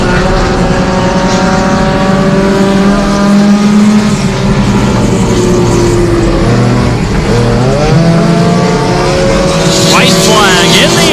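NASCAR Division III enduro race cars roar around the track in a loud, continuous pack of engines, with revving and pitch shifts as the cars pass, under a race commentator's voice.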